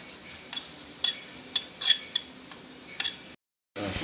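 Spices dry-roasting in a pan for mutton kuzhambu, a faint low crackle under a regular series of sharp spatula scrapes about every half second, followed by a brief silence and then a renewed hiss.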